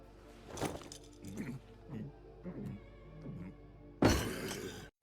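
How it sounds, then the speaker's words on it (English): A camera is smashed in an anime action scene, with a sharp crashing impact near the start and another loud shattering burst later, separated by a series of softer knocks. "There's got to be a better way to track him than smashing a camera."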